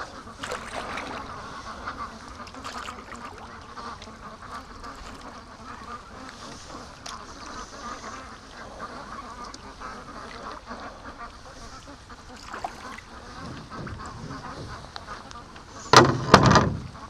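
Free-range Muscovy ducks outdoors near water, heard from a canoe, with faint scattered calls and wing sounds over steady background noise, ending in a louder close burst of flapping or splashing.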